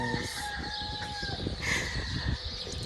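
Chickens cluck and a rooster crows nearby, a drawn-out crow over busy overlapping clucking, fairly close and with no speech.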